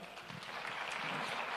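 A church congregation claps together, the steady broadband clapping building slightly in loudness, a little distant and without voices over it.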